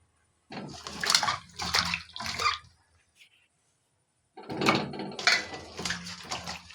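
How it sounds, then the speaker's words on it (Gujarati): Small potatoes tumble into warm water in a pressure cooker, giving two bursts of sloshing, splashing water separated by a short quiet gap, close and clear with no talk. "પાણી થોડુંક ગરમ થઈ ગયું, બટેટા આપણે એની અંદર નાખી દઈશું।"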